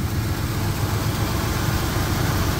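A 1968 Ford engine idles just after a cold start with a slightly flooded carburetor, giving a steady low rumble that runs evenly throughout, close and fairly loud, with no talk.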